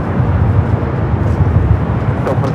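An airplane arriving at LAX airport roars as a loud, steady broadband rumble, continuous and close throughout with no break.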